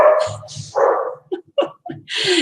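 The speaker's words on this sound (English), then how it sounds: "Sorry, my dog is going to bark now." A pet dog barks indoors: a few loud, close barks and yips with short gaps, ending in a longer harsh bark.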